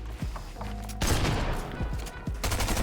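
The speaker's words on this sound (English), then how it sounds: "I use my SMG for that." Rapid SMG bursts in a Fortnite fight, loud clattering fusillades that start and stop in quick strings, with a couple of isolated shots and game effects between them.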